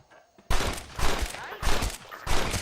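Revolver fired in the Red Dead Redemption video game, four loud close gunshots in quick succession, each a sharp blast with a short trailing echo.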